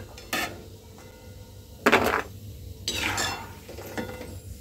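Roasted almonds are lifted out of a pan of hot ghee, giving a few separate metallic scrapes and clinks of a utensil against the pan over a low steady background, with no talking.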